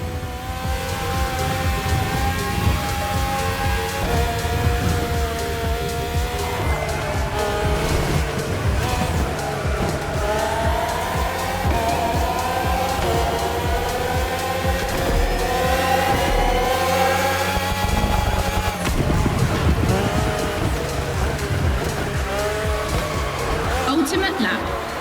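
Red Bull F1 race cars, the RB13, RB14, RB18 and RB20 with Renault and Honda engines, scream through a lap in the racing game The Crew Motorfest, their high engine whine rising and falling while tires squeal steadily underneath.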